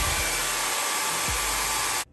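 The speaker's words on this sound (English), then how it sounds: "I'm gonna use my blow dryer to stretch that out so it can stay" A handheld blow dryer roars steadily at close range while drying a man's short hair, then cuts off abruptly near the end; there is no talk.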